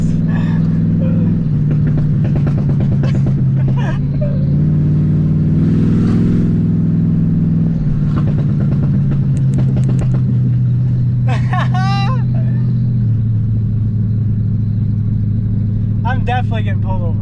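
A Dodge Magnum's engine growls loud and steady while driving, its pitch sliding lower as the throttle is released, with people talking over it.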